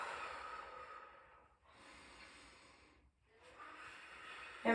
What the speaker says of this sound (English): You take deep breaths